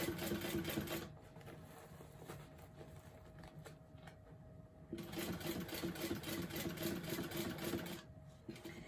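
Industrial sewing machine stitching seams on a fabric bag, a faint rapid mechanical whir in two bursts separated by a quieter pause, no talking.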